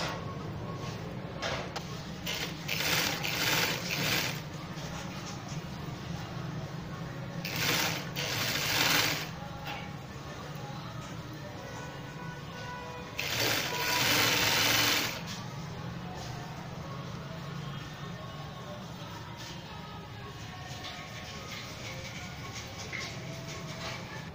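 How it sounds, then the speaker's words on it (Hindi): A sewing machine runs in bursts, stitching along the hem of a designer trail-cut shirt, its steady mechanical whir rising louder in several stretches over a low background hum. "अब हमने एक सिलाई तमाम दामन में लगा ली है"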